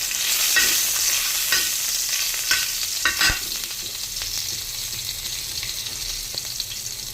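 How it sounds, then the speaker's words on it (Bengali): Two chillies, one green and one red, hit a little hot oil and sizzle and spit close by, loud at first and then settling into a steady fry, with no voices. "একটু তেল আছে ওর মধ্যে কাঁচা পাকা দুটো লঙ্কা দিয়ে দিলাম"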